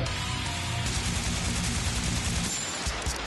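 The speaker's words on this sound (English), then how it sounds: "Oh, that's a gun!" Gunfire sound effect within the dense metal mix of a song, a loud burst of rapid shots layered over distorted guitars and drums, with a brief drop near the end.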